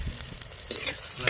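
Onion, green chili and curry leaves sautéing in a pan, a short burst of close sizzling with a few soft stirring scrapes, no voices.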